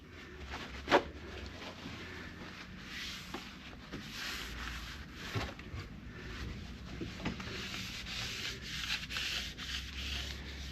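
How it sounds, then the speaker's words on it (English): Steady scratchy rubbing of coarse sandpaper on wood, continuous and close, with a sharp knock near the start. "I need to do a little more coarse sanding right in there"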